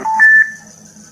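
Telephone keypad tones sound as a call to Amazon is placed: two short, clear dialing beeps in quick succession, then a fainter lingering tone on the line.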